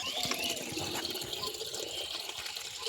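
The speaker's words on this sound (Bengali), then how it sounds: "বোতলগুলো সব ভর্তি করে নিই তারপর বালতিটা ভর্তি করে নেবো" Water pours steadily into bottles and a bucket, a close, continuous gushing fill with light splashing and no speech.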